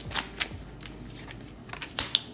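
Tarot cards are shuffled by hand in a quiet room, giving several quick, crisp riffling bursts and soft slaps spaced irregularly over a couple of seconds, close up with no talk.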